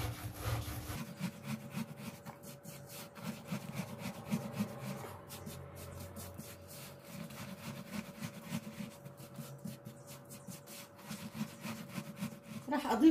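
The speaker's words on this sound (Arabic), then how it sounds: "بس ضروري افرك منيح السمسم بالقطر" Sesame seeds are rubbed by hand into syrup-coated barazek cookies, making a soft, continuous gritty rustling and scraping that stays fairly quiet and close, with no speech.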